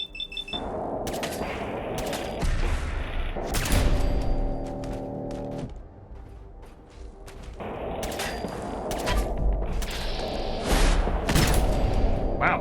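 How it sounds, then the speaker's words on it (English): Automated turrets firing in Fallout 4, repeated bursts of loud mechanical gunfire in clusters through the stretch, with a sustained tonal hum in the middle and some talk mixed in. "Can't believe I got caught by some freaking turrets."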